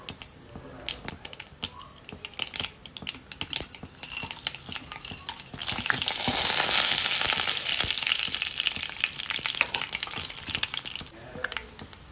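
Whole spices such as cinnamon spluttering and frying in hot oil for a mutton gravy, with a steady sizzle that swells loudly midway and scattered sharp pops and crackles throughout.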